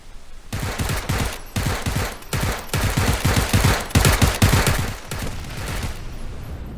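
Rapid automatic gunfire from PUBG on Xbox One, loud close bursts of shots firing continuously with brief gaps, no talking over it.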